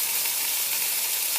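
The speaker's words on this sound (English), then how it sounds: "it should sizzle nicely when I put it in" A stuffed chicken breast roll sizzles steadily in hot olive oil in a pan, a close, even hiss that holds without a break.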